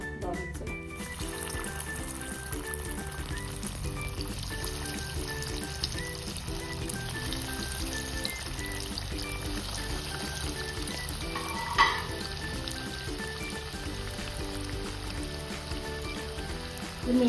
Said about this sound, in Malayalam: ഓയിൽ ഒഴിച്ച് ചൂടായിട്ട് നമുക്ക് ചിക്കൻ റിങ്സ് ഫ്രൈ ചെയ്തെടുക്കാം